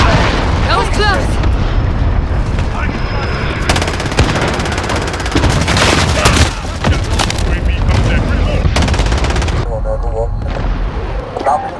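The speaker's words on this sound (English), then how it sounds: "Enemy cruise missile incoming!" Call of Duty: Modern Warfare gameplay with dense, loud gunfire and booming explosions layered continuously, including a heavy blast from an enemy cruise missile strike, with clipped game voice callouts mixed in.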